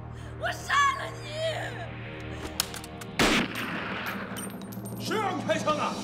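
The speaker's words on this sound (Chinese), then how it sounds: "谁让你开枪的？" A single sharp gunshot cracks out midway through a tense scene in the Chinese film Red Action Team: The Town Named Panlong, amid shouting voices and ambient noise.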